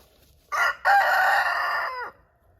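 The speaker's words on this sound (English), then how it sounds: "The rooster is a barred rock" A Barred Rock rooster crows once, loud and close: a short opening note, a brief gap, then a long drawn-out harmonic call that fades away.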